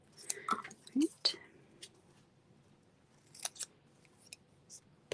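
A few crisp snips of scissors cutting through ribbon, close by, with short pauses between cuts and soft rustling in a quiet room.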